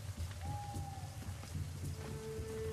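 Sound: rain falling in a video game

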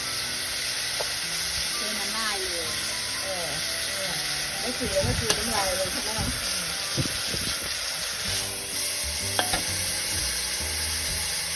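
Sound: fish sizzling while frying in fish sauce in a pan

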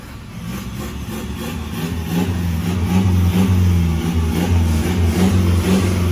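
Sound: pickup engine revving heard from exhaust

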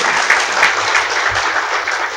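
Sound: audience applause

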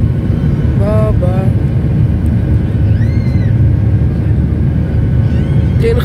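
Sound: airplane cabin rumble and vibration during flight

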